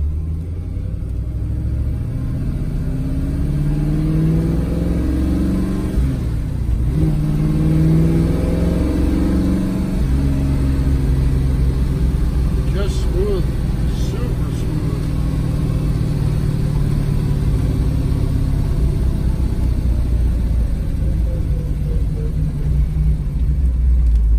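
Car engine revving while driving up through the gears, a loud, close, continuous rumble whose pitch rises and drops with each shift across a long stretch.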